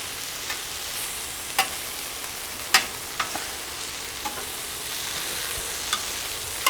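Sous vide skirt steak and shrimp sizzle steadily on a Solo Stove SteelFire griddle, a constant hiss broken by occasional sharp pops and spatula scrapes, with no voices.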